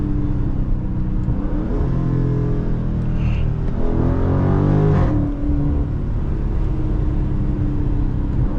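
Dodge Charger Scat Pack widebody V8 engine downshifting while driving on a street with the windows down, a steady loud drone that swells with a rev blip midway before settling back.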